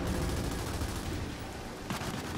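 Rail gun fire in the Gears 5 campaign, heard as a dense burst of heavy gunfire and blasts that stays loud throughout, with a sharp extra crack near the end.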